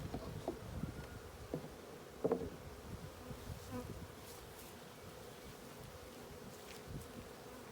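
Honey bees buzz in a dense, continuous hum around a hive, with a few soft bumps and taps early on.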